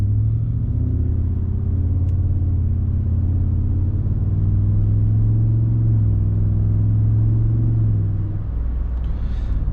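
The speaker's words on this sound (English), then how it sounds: "you might be able to hear a little bit of the exhaust when you come to a stop as well" Deep, continuous exhaust rumble from a 2023 Ford F-150 5.0 V8 with Flowmaster FlowFX exhaust, loud and close, with the low drone shifting slightly in pitch before settling.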